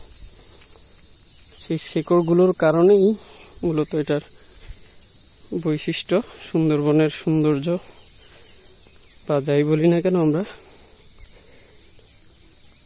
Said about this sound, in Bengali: ঝিঝি পোকার ডাক লেগেই থাকে,